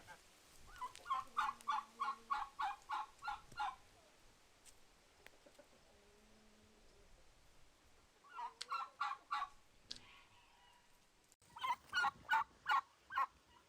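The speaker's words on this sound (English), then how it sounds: "You turkeys okay?" Turkeys gobble in rapid rattling bursts, several loud rounds separated by quieter gaps, fairly close by.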